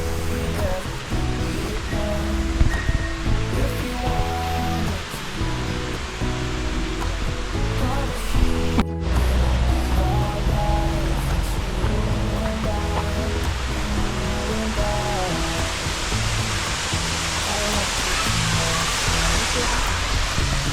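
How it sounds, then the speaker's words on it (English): A roadside waterfall in Tahiti, French Polynesia, pours in a steady, loud, broadband roar that holds unbroken throughout, with faint low rumbling underneath. "the waterfall is right off the road"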